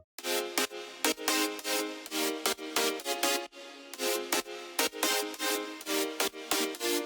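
A bright future house synth chord progression pulses in repeated stabs with a reverberant tail, steady rhythm and no voices.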